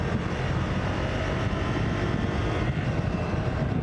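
Triumph Scrambler 400 XC with a 400cc single-cylinder engine, a steady, smooth, low rumble with broad wind-like noise on top, constant and close throughout, with no talking over it.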